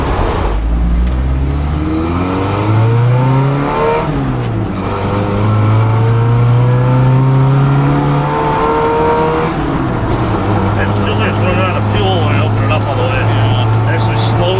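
An old Jeep, abandoned for twenty years and newly running, revs hard on a test drive, its engine climbing and falling through repeated loud, close runs of acceleration while someone talks over it.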